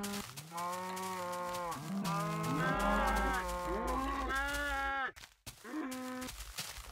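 Several Minecraft cows moo in overlapping, drawn-out calls, a dense chorus of game animal sounds that breaks off near the end before resuming.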